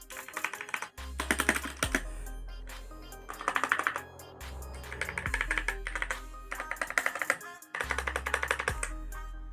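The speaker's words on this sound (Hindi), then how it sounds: "लेकिन कीबोर्ड का साउंड मुझे बहुत अच्छा लगा" Typing on a Cosmic Byte CB GK-28 mechanical keyboard with red switches: dense, rapid clacking in bursts separated by short pauses, close and loud, with no voices.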